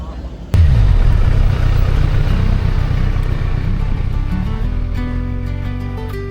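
A motorbike starts and sets off with a sudden loud burst of engine noise, then settles into a close, rumbling run whose pitch climbs and shifts as it pulls away.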